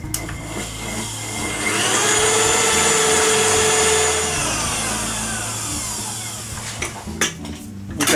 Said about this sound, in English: we're going to put them into a bowl and we're going to beat them for about 3 to 4 minutes